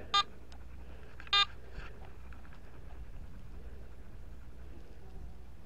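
Two short electronic beeps from a metal detector over a target outdoors, an isolated pair of faint tones spaced about a second apart over a soft background hiss.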